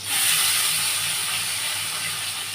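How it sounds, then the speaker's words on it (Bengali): Salt-and-turmeric-coated brinjal pieces, squeezed dry, fry in a small amount of hot oil with a loud, steady, close sizzling hiss that rises quickly and then holds, fading only slightly. "যার জন্য বন্ধুরা দেখুন আমি বেগুনটা ভাজছি"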